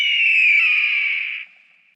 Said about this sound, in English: There's the red-tailed hawk.